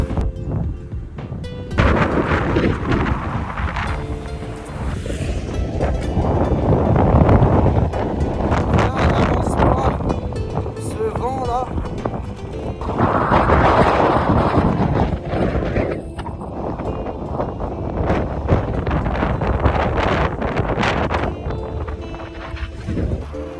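Strong headwind roars and buffets a microphone continuously, surging and easing in long gusts, loud and close throughout.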